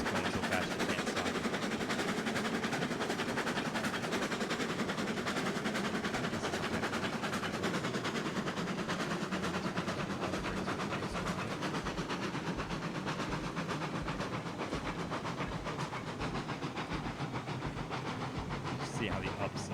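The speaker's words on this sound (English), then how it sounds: "the train gets away from me. It's going so fast you can't stop." A fast-moving train rolls along rails in Railroads Online, producing a continuous, even rumble and rattle that holds steady for the whole stretch, with no voices.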